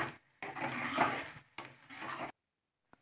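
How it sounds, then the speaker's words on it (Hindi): Grated carrot halwa being mixed in a pan, two bursts of scraping and stirring against the metal, close and alone, then quiet with a faint tap. "फिर अच्छे से मिला लें इसको"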